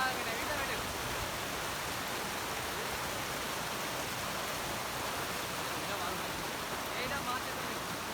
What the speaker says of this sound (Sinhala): බලන්න වතුර පාර ගලාගෙන ඇවිල්ලා වැටෙනවා.